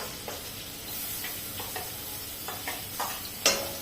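Onion frying in a pan for methi matar malai, a steady soft sizzle broken by periodic stirring clicks and scrapes, closer and sharper near the end, with no talking.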